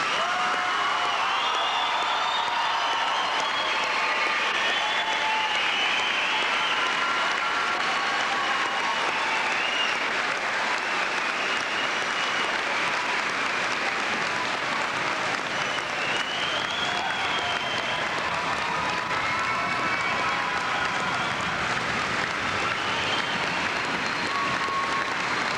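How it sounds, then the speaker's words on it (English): A commencement audience gives a long, sustained round of applause for the graduating class of 1998, dense clapping mixed with cheers and whoops from a large crowd, steady and full throughout. "Let's all join in a really big round of applause for the class of 98"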